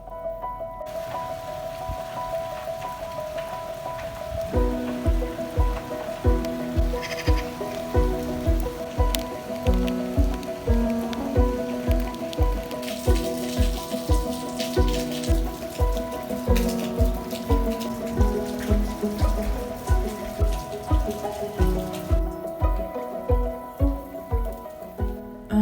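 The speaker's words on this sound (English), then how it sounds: "It's raining so much harder now." Heavy rain pours down on a backyard in London, a dense, steady patter of drops striking surfaces that grows fuller after the first few seconds and continues unbroken.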